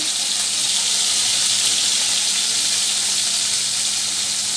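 Bitter gourd frying in hot oil, a dense continuous sizzle, close and loud throughout with no pauses.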